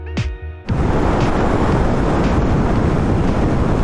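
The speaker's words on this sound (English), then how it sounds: "It's quite windy here." Strong wind buffets the microphone on a motorcycle road trip near wind turbines, a loud continuous roar that takes over after a brief tonal sound at the start.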